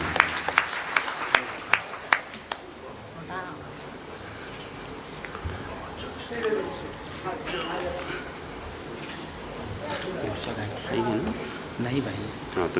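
At an award distribution during an international mushaira, a few sharp, scattered claps open the moment, then softer applause lingers beneath someone speaking over a microphone.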